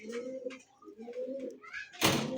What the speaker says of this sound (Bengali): এই মুহূর্তে সিঙ্গেল একটা কবুতর দেখতেছেন